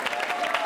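Brief burst of audience applause at a Hare Krishna Mission quiz show on Sanatan Dharma, greeting a quiz winner; steady clapping texture, moderately loud, lasting under a second with no talk.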